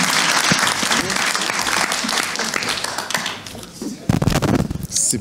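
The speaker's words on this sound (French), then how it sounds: "Bravo, hein, on les applaudit." Audience applause at a literary evening, a dense wash of clapping from a crowd that carries on under scattered voices, then fades briefly before a louder, closer burst near the end.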